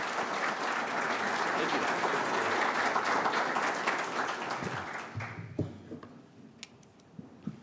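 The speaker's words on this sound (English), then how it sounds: "let's give him a warm round of applause and welcome him to Ashtabula County" Dense applause from a Republican political event audience fills the room, then tapers into scattered claps as a voice briefly speaks near the end.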